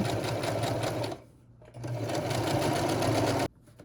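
A backup sewing machine stitches fabric for a doll, a steady close mechanical whirring that stops briefly, restarts and runs for about two seconds before cutting off.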